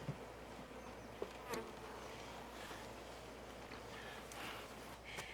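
Honeybees hum around a homestead hive as night falls, a faint, steady insect drone with a few brief louder passes close by, no talking.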